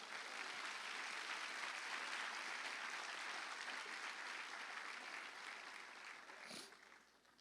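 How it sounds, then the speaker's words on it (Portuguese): A church congregation applauds in a dense, continuous wash of clapping heard from across a large room, holding steady before fading out near the end. "Vamos aplaudir o Senhor, amém?"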